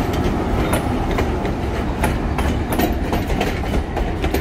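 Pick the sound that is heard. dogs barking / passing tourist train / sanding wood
passing tourist train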